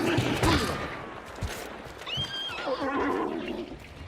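A horse in a video game lets out a short whinny amid gunfire-like bursts and busy game noise, with no clear talking over it.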